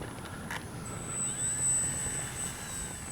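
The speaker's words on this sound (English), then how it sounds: "Just taxi around just a little bit." FMS Ranger RC plane taxiing on the ground, its electric motor giving a steady high whine that swells and eases as the throttle changes, close by, with no talk.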